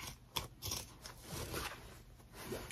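Dull scissors work slowly through a thick layer of quilt fabric, giving close, rough crunching snips in uneven bursts with no voices.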